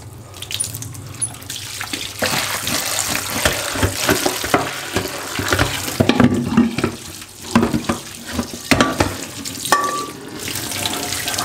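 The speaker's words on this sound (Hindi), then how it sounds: "मैं अब इसको धोने लगा हूँ ताकि थोड़ी सी साफ हो जाए।" A burnt karahi pan is washed under a running tap, with a steady stream of water splashing into a sink and intermittent scrubbing and clanks of the metal pan, close and fairly loud.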